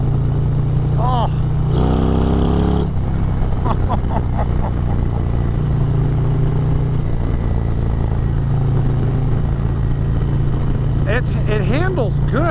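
A 2023 Harley-Davidson Road Glide ST with a 135 Stage 4 engine rumbles steadily throughout a test ride, its deep low drone constant under wind rush, while a rider talks and exclaims over it.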